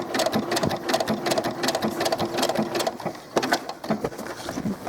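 Sewing machine stitching doll clothes fabric, a close, steady rapid needle chatter in short runs with brief pauses between them.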